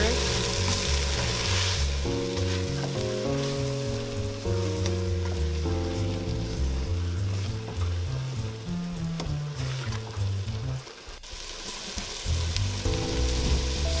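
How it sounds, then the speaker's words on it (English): Lamb chops and onions fry in a pan with a steady broadband sizzle that sits beneath loud melodic background music, which briefly drops out near the end. "let's go ahead and check on our lamb chops and onions with our puree"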